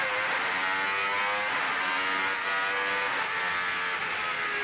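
Renault Espace F1, the Formula 1-engined minivan, accelerating hard out of a hairpin on track, its engine roaring loudly and steadily throughout with rising revs, close and alone.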